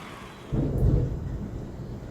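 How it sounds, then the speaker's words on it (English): Thunder rumbling in Florida, a low rolling boom that swells in after a quiet moment and lingers steadily without fading, with no voices. "It's still Florida, there is still thunder."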